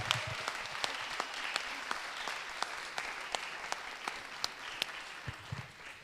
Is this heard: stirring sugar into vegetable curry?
no